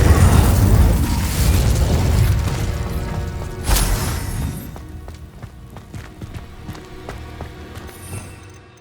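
Incendio fire spell cast in the Hogwarts Legacy video game: a loud burst with a booming onset, then a sharp crackling flare near four seconds, fading into scattered ticks and pops over a low game-sound bed.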